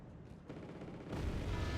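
Anti-aircraft gunfire in the strategy game Wargame: AirLand Battle, a steady rumbling barrage of low thuds that swells louder partway through the burst.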